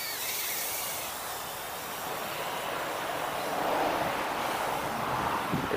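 Wind blows outdoors during a small toy FPV drone flight, a continuous broad rushing hiss that swells slightly partway through, with no voices.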